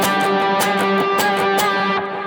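Electric guitar notes accented by slightly yanking the strings down, ringing chord tones with sharp picked attacks in a quick rhythmic pattern, played alone and close before the sound drops away.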